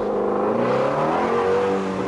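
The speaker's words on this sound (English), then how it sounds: "Try to break the tires loose again." Shelby GT350 on Michelin Pilot Sport 4S tires in below-freezing winter conditions, its engine roaring loud and close as it accelerates with revs climbing steadily and no voices over it.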